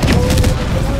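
Loud, sustained booming blasts of a cannon in Helldivers 2, dense and rumbling, close up, with a voice partly over the barrage.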